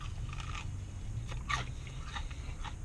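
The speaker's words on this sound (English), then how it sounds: "you hear the crunch?" Crisp bites into an extra-crispy Wingstop citrus piri piri pepper chicken wing, a few faint crunches close to the mic over low background noise.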